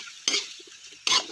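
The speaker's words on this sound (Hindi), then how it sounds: "अब इसको चला देंगे अच्छे से" Whole spices with coriander seeds being stirred in a hot cooking pan, giving two short scraping, sizzling bursts with faint clinks between them.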